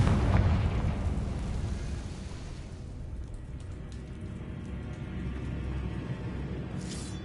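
A Confringo spell explodes in the video game Hogwarts Legacy with a heavy booming blast that rolls into a long, fading rumble and crackle, loud and alone.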